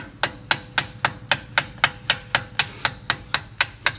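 Steady metallic taps of a screwdriver driving a brake caliper pin out on a 1994 Ford F-350 7.3 PowerStroke diesel, about fifteen evenly spaced, sharp close strikes with no talking.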